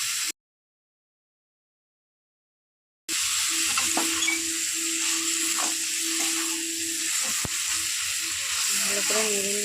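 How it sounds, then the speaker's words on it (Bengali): Water lily stems being stirred with spices and fried prawns in a hot pan, a loud continuous sizzle with scraping stir strokes, breaking off after a brief start and then running steadily. "শাপলাটাকে আমি ভালো করে মিক্স করে নিচ্ছি সব মশলার সাথে। এবারে আমি দিয়ে দিচ্ছি ভেজে রাখা চিংড়ি মাছগুলো।"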